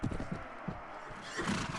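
A horse neighing and galloping in the medieval combat game Mount and Blade, with quick clip-clop hoofbeats and a whinny over battle noise, at moderate volume.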